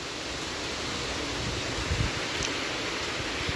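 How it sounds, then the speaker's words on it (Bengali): Strong wind gusting during rain in open surroundings, a steady broadband whoosh that swells slightly around the middle, close and fairly loud, with no one talking. "এখন আবার বেশ জোরে হাওয়াও দিচ্ছে দেখছি।"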